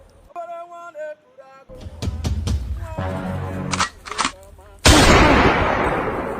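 A gunshot sound effect in a comedy skit: a few sharp cracks over vocal sounds, then one loud, close blast that ends in a long, hissing, noisy tail.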